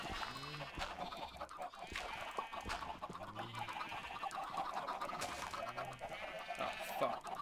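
Chickens in the Minecraft video game cluck repeatedly against a busy backdrop of game sounds, the clucks moderately loud and recurring through the whole stretch.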